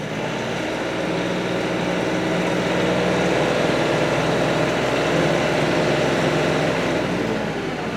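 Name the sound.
manual transmission vehicle driving in mid-range 4th gear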